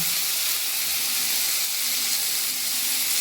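Spices and ginger fry in hot oil for a katla fish curry, giving a dense, even sizzling hiss that stays loud and unbroken for a few seconds.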